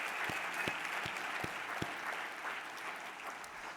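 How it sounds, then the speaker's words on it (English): An audience at a luncheon in a Hilton hotel ballroom applauds with steady, moderately distant clapping that carries through without any talk over it. "Please join me in a grateful round of applause for our fantastic hosts"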